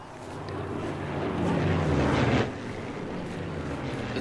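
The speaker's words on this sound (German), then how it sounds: "Jetzt fliegen hier andauernd Flugzeuge" Aircraft fly overhead in the shooter game Sniper Elite 4, a broad engine drone that swells to a peak around the middle as it passes and then eases back to a steady background rumble.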